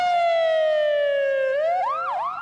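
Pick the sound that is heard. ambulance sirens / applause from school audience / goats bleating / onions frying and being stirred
ambulance sirens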